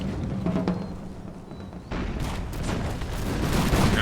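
A musket volley in a Napoleonic-era strategy game, fired at dragoons: a ragged crackle of many shots early on, then a louder rolling fusillade that thickens and continues toward the end, with no talk.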